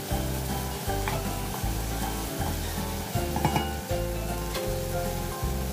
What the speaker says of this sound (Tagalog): Ilalagay na rin po natin ang oyster sauce at haluin po muna natin.